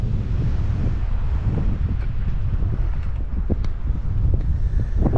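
Strong wind roars across a chilly mountain top, buffeting the microphone in a continuous, heavy low rumble with gusty swells.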